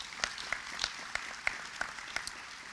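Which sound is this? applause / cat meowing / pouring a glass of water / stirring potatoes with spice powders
applause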